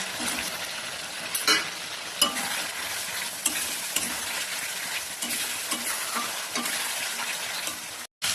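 Potatoes sautéing in spice paste in a pan, a continuous close sizzle with frequent scraping strokes of a spatula stirring throughout.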